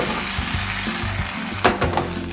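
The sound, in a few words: filling sizzling and browning in a pan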